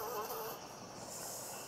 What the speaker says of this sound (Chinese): 那个苍蝇真的很恼人。